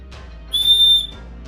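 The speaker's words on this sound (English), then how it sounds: "if you untwist this on the inside, you actually have a whistle, just in case you need to alert anybody" One sharp, high, piercing blast from the small whistle built into a survival shovel's handle, about half a second long, loud and close, with quiet fumbling before and after.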